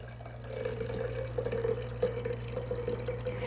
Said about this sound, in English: So I'll strain it through.